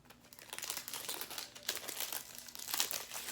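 Plastic wrap crinkles and crackles close up as a music album is unwrapped, quiet irregular bursts of crumpling with sharper snaps, no voice.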